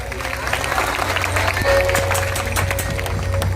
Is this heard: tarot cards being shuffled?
no